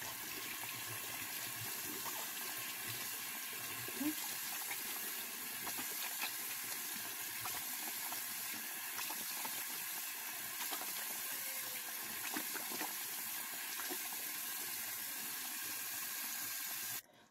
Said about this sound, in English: I'm gonna go ahead and rinse this one off with my hands,